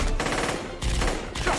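Rapid automatic gunfire in an action film battle, loud close bursts of machine-gun shots in quick clusters, with short pauses between volleys.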